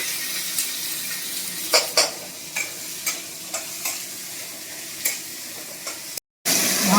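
Onions and panch phoron frying in hot oil in a pan, a steady close sizzle broken by a series of sharp scraping stirs roughly every half second, then a brief cut to silence near the end.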